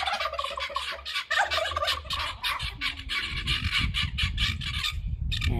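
Guinea fowl in a hen house give a dense, continuous run of loud, rapid rhythmic calls and chatter, several birds overlapping close by for the whole stretch.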